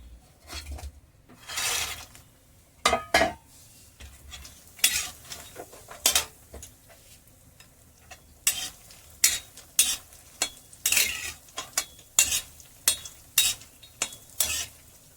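Fox nuts (makhana) dry-roasted in a pan without ghee, with repeated scraping stir strokes and metal utensil clatter against the pan in an irregular rhythm, close and moderately loud, no talking.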